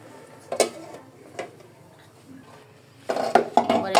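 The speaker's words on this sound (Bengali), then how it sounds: "তাই আবার আমি ঢেকে দিব ঢাকনা দিয়ে, আটাটা ভালো করে সিদ্ধ হোক।" A lid is set onto a cooking pot where flour is being boiled for bhapa kuli, giving a few close metallic clinks and clatters, the last cluster louder and busier.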